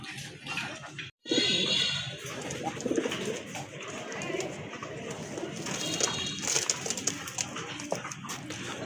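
Desi pigeons coo in a low, repeated murmur close by amid constant chatter of other birds and some faint whimpering, a brief gap in the sound near the start, with no talk.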